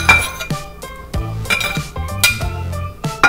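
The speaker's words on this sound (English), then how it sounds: "And then I will add the sliced bananas into my bowl." Sliced bananas tumbling into a glass bowl already holding strawberries for a fruit parfait, giving a string of sharp clinks and soft thuds in uneven bursts, close and fairly loud, with no talking.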